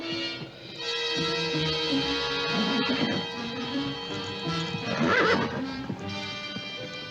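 A horse whinnies loudly near the middle and end while its hooves clip-clop steadily underneath, close by, with no voices.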